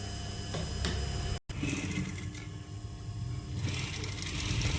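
A sewing machine stitches the front and back of a frock made from an old saree, a close, rapid mechanical whirring in bursts with a short stop and restart partway through.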